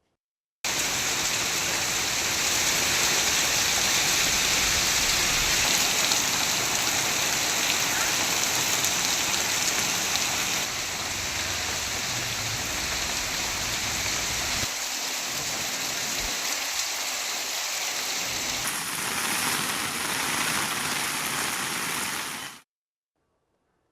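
Heavy rain falls across villages such as Valivalam, Thirukkuvalai, Keezhaiyur and Thalaignayiru in Tamil Nadu, a dense, steady hiss of downpour that shifts slightly in tone partway through, heard alone with no voices.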